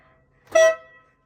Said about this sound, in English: Or even better, an optional train horn.